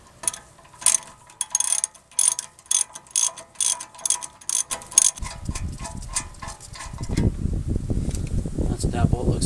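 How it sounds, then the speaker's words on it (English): Ratchet wrench clicking in quick bursts while loosening 17 mm brake caliper bolts on a 2000-2006 Toyota Tundra, close and fairly loud, followed by a louder continuous rougher grinding sound as the bolt spins free. "I'm just going to loosen and remove these two bolts right here"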